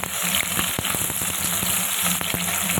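Long-sliced onions fry in a pan, making a dense, steady sizzle with scattered crackling pops and occasional stirring scrapes up close.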